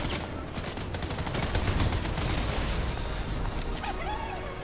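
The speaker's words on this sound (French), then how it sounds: "D'où est-ce que ça me tire dessus pas?" Rapid bursts of gunfire in a video game, loud volleys clustering in the first half and then thinning out, with a faint electronic tone near the end.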